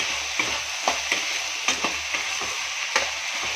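Vegetable curry frying with sambar powder in a pan, a steady sizzle broken by frequent stirring scrapes and clinks of a spoon, close and alone with no talk.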